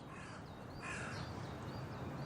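Crows caw repeatedly in harsh, nasal bursts over a steady hiss of outdoor background noise, the calls moderately distant and spaced irregularly.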